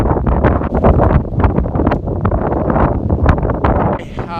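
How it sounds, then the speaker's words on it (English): Strong wind buffets the microphone in loud, gusty bursts at a car test-and-tune session, roaring throughout with muffled noise underneath. "it's so windy out here"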